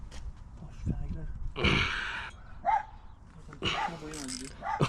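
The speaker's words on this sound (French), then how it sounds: "Depuis ce matin en plus elle fait que aboyer." A dog barks and yips a few times, mixed with people talking nearby, at moderate volume indoors.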